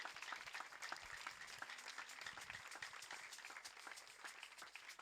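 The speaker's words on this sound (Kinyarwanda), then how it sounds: "Kadukomera Imana amashyi kubw'ijambo ry'Imana." A church congregation applauds in dense, steady clapping that fills the whole stretch at an even level, with no voices standing out.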